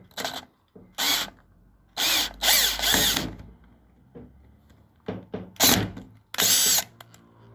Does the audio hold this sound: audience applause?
no